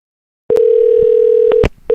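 A telephone dial tone sounds loud and steady for about a second before being cut off by handset clicks, close up, with no speech.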